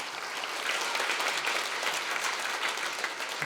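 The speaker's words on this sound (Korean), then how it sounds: "우리 감사의 박수 한번." A church congregation at a Wednesday prayer service gives steady, dense applause throughout, mid-distance and continuous without a break.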